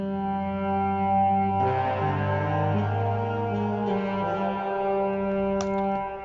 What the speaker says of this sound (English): So that's what the delay, the reverb sounds like.